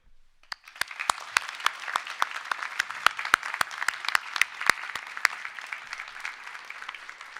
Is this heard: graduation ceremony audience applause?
yes